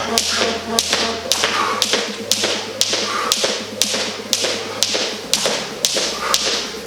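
A jump rope slaps the floor in a steady, even rhythm during a cardio HIIT workout, with sharp close taps about twice a second over a low background.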